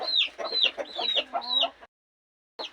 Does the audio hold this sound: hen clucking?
yes